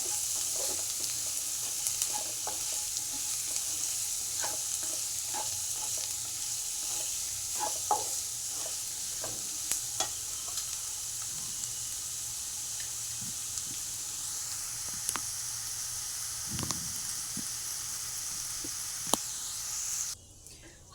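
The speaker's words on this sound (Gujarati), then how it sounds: "ડુંગળી એકદમ ગોલ્ડન બ્રાઉન કલરની થાય ત્યાં સુધી આપણે સાતળીશું।" Finely chopped onions sautéing in a pan with cumin while cashew curry is being made, a steady soft sizzle with occasional faint stirring clicks throughout, no talk.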